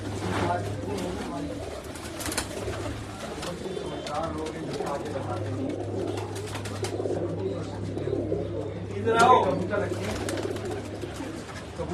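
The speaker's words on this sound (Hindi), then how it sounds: "आपके कबूतर तो बहुत अच्छे हैं" Pet pigeons coo in low, repeated murmurs close by while someone speaks over them, with occasional flutters and chirps in the background.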